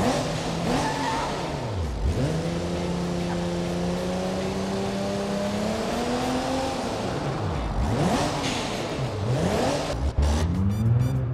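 A car engine in the BeamNG driving game, fitted with a newly installed big turbo, revving up and down repeatedly, with long rising pulls and sharp drops between them, loud and alone.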